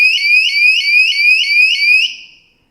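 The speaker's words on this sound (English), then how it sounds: "you can see there just that little bit of water making contact there on this has triggered the alarm" Tapo T300 water leak detector sounding its alarm after a few drops of water bridge its contacts: a loud, piercing electronic beeping in a steady rapid pattern for about two seconds, then cutting off, with no talking.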